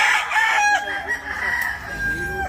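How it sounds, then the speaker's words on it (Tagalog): A rooster crows loud and close in a long, wavering cock-a-doodle-doo, with faint background noise and no clear talk. "Yung mga manok."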